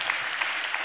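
A church congregation clapping during a sermon, a brief dense burst of applause with a few sharper claps standing out.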